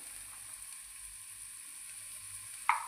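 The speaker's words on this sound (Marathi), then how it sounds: "आता आपला कांदा भाजत आलेला आहे" Onion frying in a pan, a steady soft sizzle running throughout with a brief sharper clink near the end.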